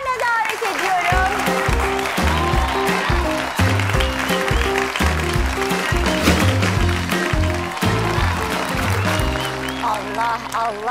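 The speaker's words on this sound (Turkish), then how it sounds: "O zaman Naciye ve Deniz'i alkışlarla davet ediyorum." Steady applause from a television cooking-show studio audience greets contestants as they enter, mixed with loud rhythmic studio music and a few voices.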